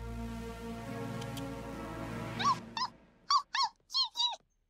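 A dog makes a low, steady growl that breaks into several short, high whimpering yelps near the end, close and fairly quiet.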